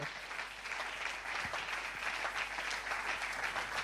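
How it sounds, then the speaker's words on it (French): A church congregation applauds steadily, with many hands clapping in a sustained, even wash that stays faint and distant throughout. "Est-ce qu'on peut acclamer le Seigneur?"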